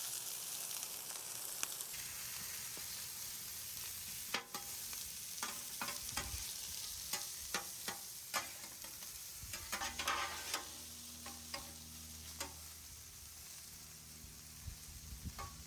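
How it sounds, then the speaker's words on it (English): Vegetables fry in bacon grease on a flat griddle with a continuous hiss, broken by frequent clacks and scrapes of a spatula stirring and moving them around, close and without speech. "We're gonna put our vegetables down in it so we don't have to add any other kind of oils."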